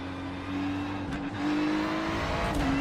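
A GT3 race car in iRacing at Monza runs hard with a steady engine drone, then drops a gear with a short dip and rises again as revs climb, loud and close.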